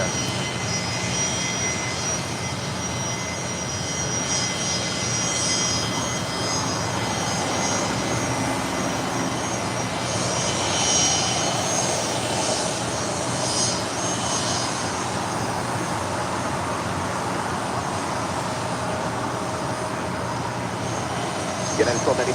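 Airplane jet engines rumbling steadily at LAX airport, a continuous broad roar with a faint whine, under intermittent radio voices.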